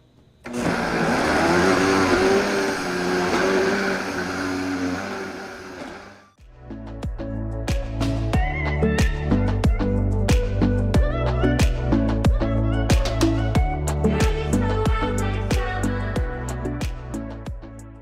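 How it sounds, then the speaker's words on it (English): A high-powered blender whirs loudly through a vegan green protein smoothie for about six seconds, then stops abruptly as rhythmic music takes over. "So let's get blending."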